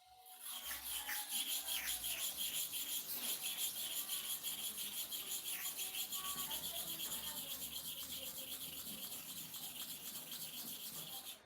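A clipper blade is rubbed to and fro over combo sharpening paste wetted with kerosene, giving a steady, close, continuous gritty scraping with a fast back-and-forth rhythm that lasts throughout, with no talk.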